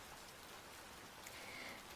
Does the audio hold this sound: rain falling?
yes